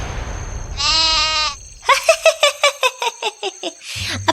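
A goat gives a loud, close, drawn-out bleat, then a run of quick, shaky, pulsing bleats that wobble like laughter.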